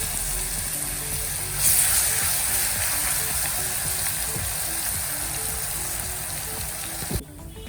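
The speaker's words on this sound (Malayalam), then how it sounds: "അതിലേക്ക് അരച്ച് വെച്ചിരിക്കുന്ന പേസ്റ്റ് ഇട്ട് ഒന്ന് കൂട്ടിച്ചെടുക്കാം" Ground spice paste for green mango pickle fries in a pan with a loud, continuous close-up sizzle and crackle, briefly intensifying and ending with a utensil knock.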